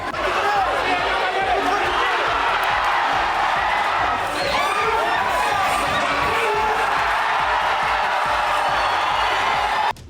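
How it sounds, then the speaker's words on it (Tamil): A crowd at a Moraingy fighting match in Madagascar roars and cheers without letup, with whoops and excited shouting rising loudly over a dense wash of chatter. "வீரர்கள் களத்தில் மல்லு கட்டியதை சுற்றியிருந்த மக்கள் ஆரவாரம் செய்து கண்டுகளித்தனர்."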